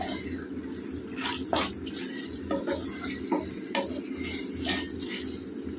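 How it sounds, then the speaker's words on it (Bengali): Water pours into a cooking pot of tomato and meat on the stove, a running splash over a soft background sizzle, with a few clinks and stirring sounds. "আর একটু জল দেবো আমি"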